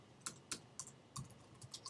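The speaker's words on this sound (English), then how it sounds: "sorry about the typing" Computer keyboard typing, quick clusters of sharp clicky keystrokes in irregular bursts, close and fairly quiet, with no voice.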